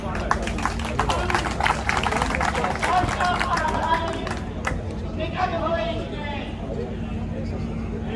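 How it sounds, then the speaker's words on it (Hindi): A crowd at a Gujarat paramilitary organization gathering applauds Dipesh Patel with dense, rapid clapping that thins out about halfway through, mixed with crowd murmur and a voice talking over it. "दीपेश भाई पटेल,"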